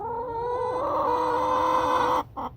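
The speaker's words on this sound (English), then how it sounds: "He's got some chickens." Backyard chickens in a garden cluck and warble continuously at close range, with no talking, before falling briefly silent near the end and then giving one short final call.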